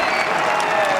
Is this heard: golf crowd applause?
yes